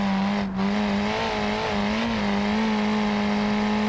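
A car engine in BeamNG Drive drones steadily as the car drives around a track, a loud sustained hum that dips briefly and swells slightly, with no talking.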